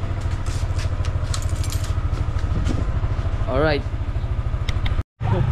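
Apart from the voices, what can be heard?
motorcycle engine idling before riding off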